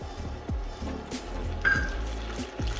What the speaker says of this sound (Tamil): இப்போ கடாயில் முட்டை குழம்பு வைக்கிறதுக்கு தேவையான அளவுக்கு எண்ணெய் ஊற்றிக்கலாம்